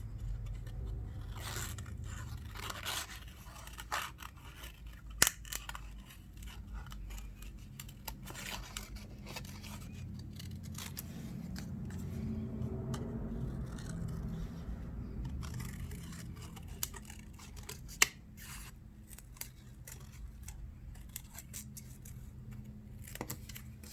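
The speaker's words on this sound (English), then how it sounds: "I've got a little bit of black scrap paper, and I'm going to cut some small waves, just kind of freehand those or free scissor those" Scissors cut freehand small waves into a piece of black scrap paper, making close, continuous scraping snips with occasional sharper clicks throughout.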